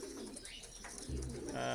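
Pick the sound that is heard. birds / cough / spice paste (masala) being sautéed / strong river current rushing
birds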